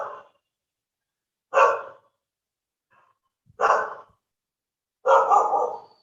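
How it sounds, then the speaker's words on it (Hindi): A dog barks in three separate loud, sharp bursts spaced a couple of seconds apart, with silence in between and the last bark drawn out longer. "ठहरो कुत्ता हो"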